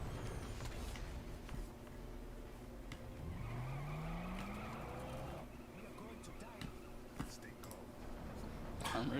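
An armored semi-truck in the video game Metal Gear Rising: Revengeance skids with a rising tire squeal and engine roar, set in a busy mix of game noise, clatter and voices.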